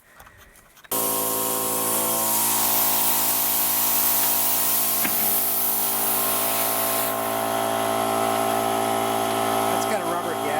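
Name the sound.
pump filling tractor tire inner tube with windshield washer fluid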